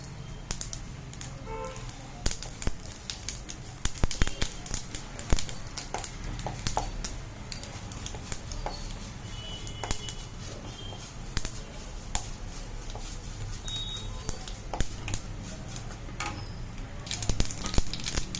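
Mustard seeds, urad dal and cumin crackle in hot oil for a tempering, sharp scattered pops and spits over a low sizzle, sustained and close, with no talking.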